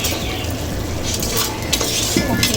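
Tomato rice ingredients being mashed in a pot by hand, a steady close stirring and scraping with soft clinks of a ladle against the metal rim, continuous and moderately loud with no talk.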